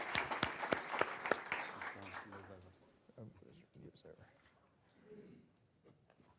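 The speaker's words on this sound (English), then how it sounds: "I think a nice round of applause." Applause from a city council session audience, clapping for about three seconds, fairly near and moderately loud, then fading into quieter room sounds and faint voices.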